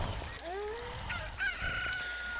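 A rooster crows at dawn in the Ocarina of Time video game as a chicken hatches from an egg, a drawn-out game-sound cock-a-doodle-doo with rising and falling tones over a steady musical background, no talk.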